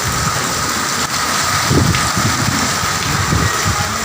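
Steady, dense typhoon rain hiss fills the scene, a constant heavy wash of noise with low rumbling underneath and no voices.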